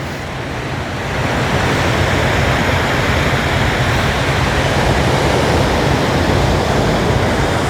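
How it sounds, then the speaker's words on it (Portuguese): Rough sea waves crash at Copacabana beach in Rio de Janeiro, a loud, steady roar of surf that swells after the first second and holds constant, with no voices over it. "o mar tá bravo aqui, hein?"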